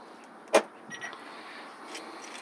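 A single sharp click-clunk of an electric car's door lock, followed by faint mechanical whirs and a soft chirp in a quiet space.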